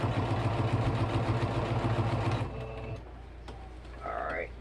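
A sewing machine stitches a quilted spoon-holder piece in a fast, steady mechanical rattle for a couple of seconds, then slows and stops, leaving a quiet room with small handling sounds.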